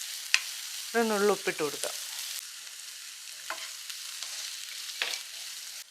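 Onion, green chili and curry leaves sauté in a pan with a soft, continuous sizzle and occasional spatula scrapes, while someone speaks briefly near the start.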